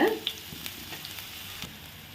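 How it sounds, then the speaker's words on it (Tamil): Onions sautéing in a pan for a chicken roast, a soft close sizzle with a few quick spatula scrapes and taps over roughly two seconds. "இது நல்லா கோல்டன் கலரில் வர்ற வரைக்கும் இதை நல்லா வதக்கி எடுத்துக்கோங்க."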